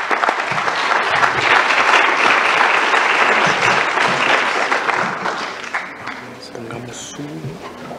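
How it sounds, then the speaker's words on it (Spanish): Audience applause fills a hall at an edible oils and fats industry association event, a dense sustained clapping that runs loud for several seconds and then gradually thins out. "Démosle un fuerte aplauso"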